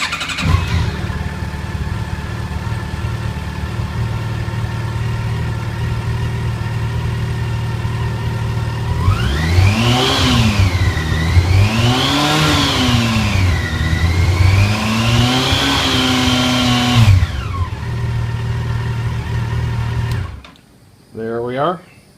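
A Yamaha FJR1300 fitted with new weighted bar end weights idles close by, then revs up to about 4,000 RPM with a rising, wavering whine that is held for several seconds before dropping back to idle.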